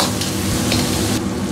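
Pork belly slices sizzle in a hot wok as scallion, ginger and garlic slices go in, giving a loud, continuous crackling fry with no voices.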